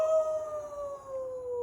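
A human voice imitates a dog howling, giving one long, sustained wavering howl that slowly falls in pitch, heard close and alone.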